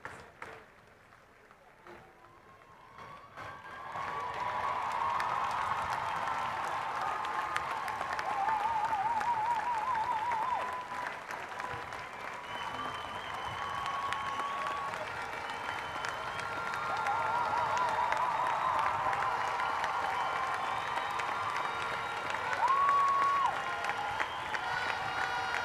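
A large stadium crowd at a Trinbago 2023 athletics and para athletics meet applauds and cheers at length, a broad, sustained roar of clapping that builds after a quiet start and carries on strongly.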